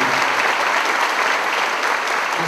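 Steady, dense applause from a seminar audience at Associação Jesse in 2011, loud and continuous from start to finish without a break.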